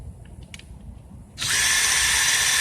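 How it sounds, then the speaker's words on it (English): A cordless power drill bursts on at full speed partway through, driving lug nuts during a car tire change, with a steady high whine that continues loudly to the end after a quieter stretch. "use my handy dandy drill because it's faster, it's easier, and we like fast and easy."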